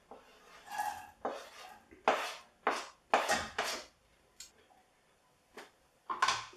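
Chopped onion tipped from a board into a pan of melted butter for a squid and sun-dried tomato risotto, giving a series of sharp clattering knocks and scrapes of utensil on cookware, several close bursts with short pauses, no talking.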